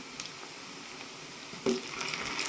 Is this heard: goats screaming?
no